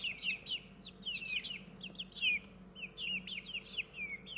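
Young chicks, hoped to be hens kept for eggs, peep and cheep continuously in a close, busy chorus of high chirps with no talk.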